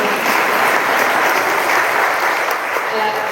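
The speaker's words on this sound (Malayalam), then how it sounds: "ഒരു കയ്യടി ഡിസേർവ് ചെയ്യുന്നുണ്ട്" Dense, sustained applause from an audience after a speech at an event called Familia 2025, loud and steady throughout with voices faintly mixed into the clapping.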